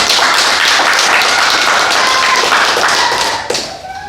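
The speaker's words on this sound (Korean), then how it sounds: "우리 하나님께 영광 박수 올립니다." A church congregation claps together in praise of God, a dense, loud, steady burst of applause that holds for several seconds before thinning out near the end.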